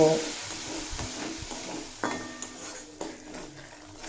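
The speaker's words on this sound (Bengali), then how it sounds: "সামান্য পরিমাণ জল দিয়ে মশলা খুব ভালোভাবে কষিয়ে নেব" Spice paste with Kashmiri chilli powder and a splash of water sautéing in a pan, with a soft steady sizzle under repeated scraping and clinking strokes of a spoon against the metal, close and moderately loud.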